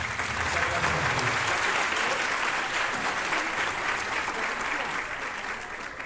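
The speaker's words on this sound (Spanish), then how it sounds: "Por favor, un aplauso para mis familiares" Audience applause fills a university auditorium during an electoral forum, a steady dense wash of clapping that holds loud for about six seconds before easing slightly at the end.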